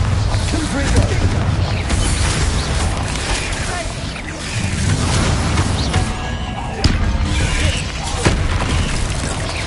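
Spell blasts from the Bombarder and Confringo spells in Hogwarts Legacy boom and slam in a dense, continuous barrage of combat noise, with raised voices shouting amid the explosions.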